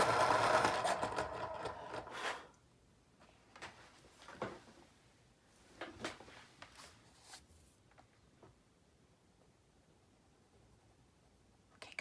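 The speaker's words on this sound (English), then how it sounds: "I'm going to sharpen this." A Prismacolor graphite pencil is sharpened in a short, loud grinding burst, followed by scattered faint clicks and taps as things settle.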